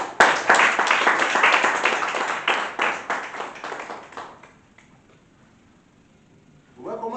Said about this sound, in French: Applaudissez le Seigneur.